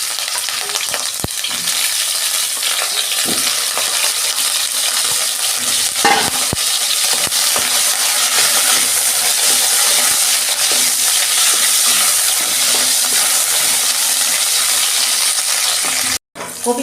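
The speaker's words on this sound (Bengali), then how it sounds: "এই যে কপিগুলো ভেজে দিচ্ছি" Cauliflower pieces frying in hot oil in a wok give a steady, loud sizzle, with occasional stirring clinks throughout; no one speaks.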